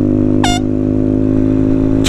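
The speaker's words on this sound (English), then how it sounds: "today we're playing with air horns" Two loud, close air horn blasts, a short sharp honk near the start and another cut off at the end, over a constant low droning hum.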